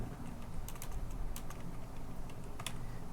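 Keys tapped on a computer keyboard while setting up a stock-photo contributor account, a steady scatter of soft clicks over a low background hum, close and fairly quiet, no talking.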